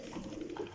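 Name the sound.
racing pigeons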